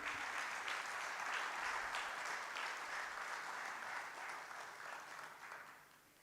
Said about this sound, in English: A round of applause on this occasion.